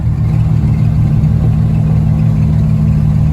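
The engine of a 1965 Dodge Coronet with a 360 drones steadily and loudly while the car cruises, a constant close-up rumble with no pauses or voices.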